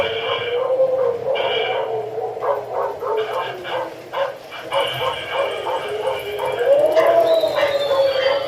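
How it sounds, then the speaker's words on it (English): Dog barking and howling sound effects play on an O gauge model railroad layout. Several dogs bark and howl back and forth in repeated bursts, close and clear, over a low background hum. "Next, the dogs will start barking."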